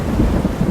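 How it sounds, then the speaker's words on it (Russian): Cartoon thunderstorm beginning, a brief low rumble of thunder blended with steady rain hiss, dense and fairly loud throughout. "Побежали, дождь начинается."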